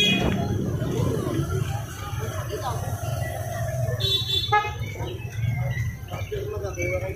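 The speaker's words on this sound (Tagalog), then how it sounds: "Traffic is real." Car horns toot in busy December city traffic in Catbalogan, Samar, short beeps over a constant street rumble with people talking throughout.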